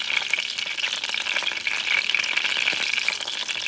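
Salmon and crabmeat sausages frying in a hot pan, giving off a dense, even crackling sizzle that holds steady throughout, close and with no voice over it.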